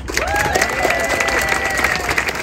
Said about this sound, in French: Essayez de l'applaudir un maximum.